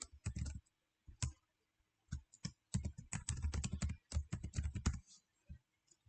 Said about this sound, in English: let me enter my username here and the password.